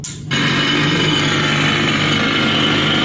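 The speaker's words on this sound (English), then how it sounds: "And we are drilling for some iron" A loud drill starts abruptly after a brief moment and runs steadily at a constant, grinding whine as it bores into iron ore in a museum exhibit.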